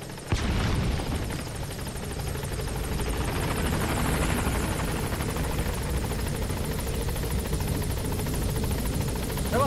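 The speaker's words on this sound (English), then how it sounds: "Oh my gosh, helicopter, hurry up. Arriving shortly at LZ." Helicopter arriving at a landing zone in the video game Metal Gear Solid V, a loud, continuous rotor thrum that starts abruptly and holds steady, close and dominant, with faint gunfire-like crackles underneath.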